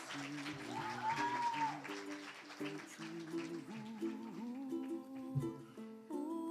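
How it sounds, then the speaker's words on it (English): Audience applause for a contestant at the Mrs. New York pageant fills the hall, a steady wash of clapping that continues for several seconds with tonal music playing over it. "Let's give her a big round of applause."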